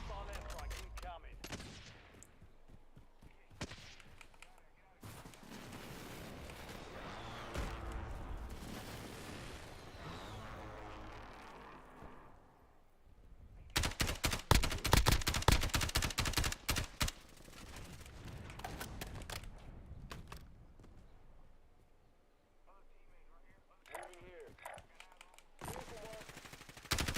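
Gunfire and sniper shots in a shooter video game: bursts of automatic fire and sharp single cracks, with a dense loud volley in the middle, mixed with game effects and occasional voices.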